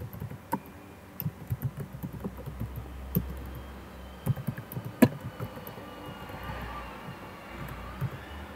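Typing on a computer keyboard while writing Ruby code, irregular bursts of close key clacks with brief pauses and a few louder strikes over a low hum.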